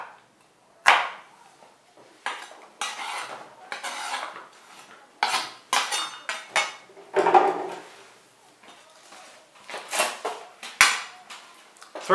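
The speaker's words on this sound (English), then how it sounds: "The onions I'll chop not too fine." Onions being chopped with a knife for marinara sauce, an irregular run of sharp taps and clacks on a board with brief pauses, close and clear with no talk.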